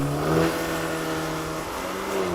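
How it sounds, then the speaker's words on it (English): A VW four-wheel-drive car launches hard under launch control with its throttle floored, the engine roaring loud and close in a sustained rising pull. "Left foot on the brake, floor the throttle, launch control active."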